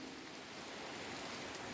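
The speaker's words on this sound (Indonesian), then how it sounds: "Berhubung hujan, jadi videonya nggak bisa dilanjutkan." Steady rain falling on a misty forest trail near a waterfall, a faint, even hiss of drops that holds unbroken throughout, with no voices.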